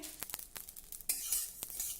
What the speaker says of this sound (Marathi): हे अळीव मस्त भाजून झाले छान तडतडायला लागले आहे